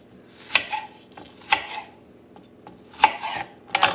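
Knife chopping an onion into chunky pieces on a board for roast vegetables, four or five sharp, spaced cuts close by with quiet gaps between them and no talk.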